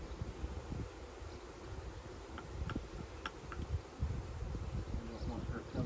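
Honeybees are being installed from a package into a backyard hive. Their soft, faint buzz hums in the background, mixed with light ambient noise and a few small taps.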